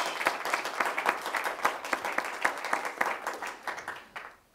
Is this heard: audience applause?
yes